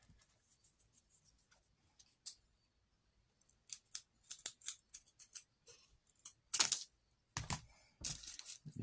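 Scissors cut material for a fairy house in crisp, close snips. A few isolated cuts come first, then clusters of quick snips and rustling handling in a quiet room, with no speech.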